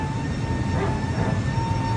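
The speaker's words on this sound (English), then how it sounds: "What you hear there is a hydraulic pump." A hydraulic pump running aboard a passenger airplane gives a continuous, even mechanical whine over a low steady rumble, unbroken and fairly loud for the whole stretch, with no voices.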